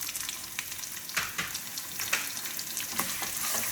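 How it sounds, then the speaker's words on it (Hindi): Onions tossed into a hot pan for savoury vermicelli (namkeen sewai) with greens sizzle loudly and continuously, with a few sharper crackling bursts as they are stirred, and no voices. "At this stage now we add the onions. सबसे पहले हम अनियंस ऐड करते हैं"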